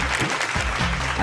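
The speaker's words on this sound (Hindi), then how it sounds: "एगो जोरदार ताली विश्वामित्र की।" A short burst of steady applause from a singing-competition audience, dense clapping filling the whole moment.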